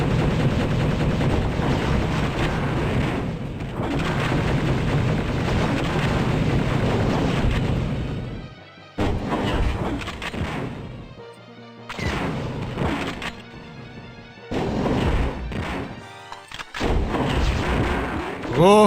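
Heavy booming mortar and artillery fire in the Siege of Avalon battle game, with loud sustained blasts for several seconds, then a few shorter separated bursts amid quieter gaps and battle noise.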